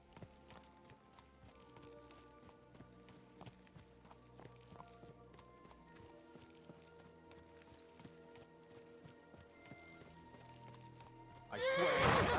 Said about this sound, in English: I swear that horse of yours kicks me.